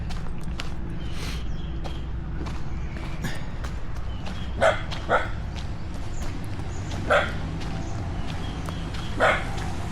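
A dog on a trip to Siquijor gives several sharp barks in separate bursts, spaced a few seconds apart and heard at moderate distance over steady outdoor background noise.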